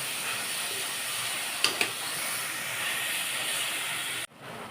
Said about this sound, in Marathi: आता ह्या सगळ्याबरोबर आपले मसाले छान भाजून निघतील बघा